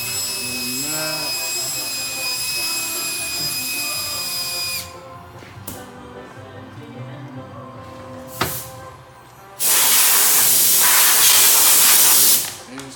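A strong spray hisses loudly for a few seconds into the inside of a 7-1/16 wellhead part, preceded by a brief short burst and a fainter tonal hum.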